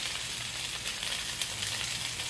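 Pork chops searing in a hot pan, a steady loud sizzle with crackling and popping spatter, constant and close with no talk.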